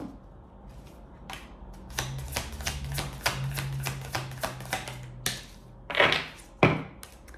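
Tarot cards shuffled and dealt onto a table during a reading: a run of quick, crisp papery slaps and flicks at a steady rhythm, close and fairly loud, ending in two sharper thumps as cards are laid down, with no talk.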